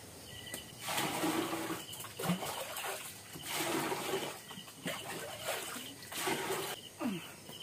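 Tap water running into a container at a kitchen sink, coming in a few bursts of splashing flow with brief pauses between them, at moderate distance with faint background noise.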